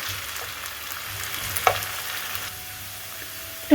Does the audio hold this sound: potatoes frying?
yes